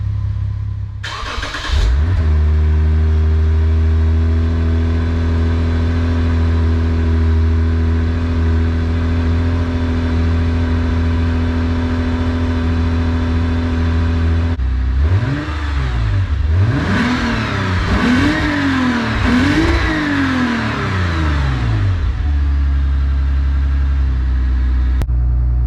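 A 2015 Lexus RC350 with an aftermarket exhaust starts up and settles into a steady idle. It then blips through several sharp, loud revs in quick succession before dropping back to idle, close to the car with no talk.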